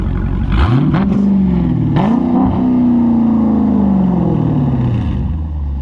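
A Dodge Charger Daytona 392 with a muffler delete revs hard and close: a deep V8 roar climbs, dips, then surges again and holds before slowly winding down, loud and raspy with no talking.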